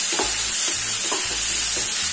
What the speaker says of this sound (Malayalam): നല്ലോണം വഴറ്റി കൊടുക്കാം.